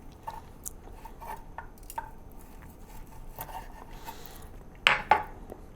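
A knife cuts through the middle of an air-fried steak on a plate, giving a few faint scrapes and taps, then a louder pair of sharp clinks near the end.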